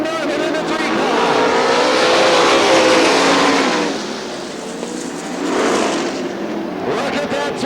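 410 sprint cars race past at a Michigan dirt oval speedway, a loud, dense engine roar swelling and fading as the pack passes, then surging again, with an announcer talking over it.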